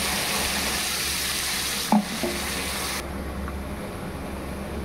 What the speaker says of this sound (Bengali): পেঁয়াজগুলো ভেজে নিয়েছি, এখন এর মধ্যে দিয়ে দিব পেস্ট করা মশলাগুলো।